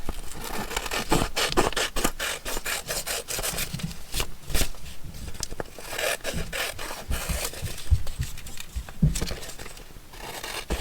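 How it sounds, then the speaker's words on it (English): Scissors snipping through paper ephemera for a craft piece, a steady run of close, crisp cuts and rubbing paper scrapes with no talking. "Now let's cut this out."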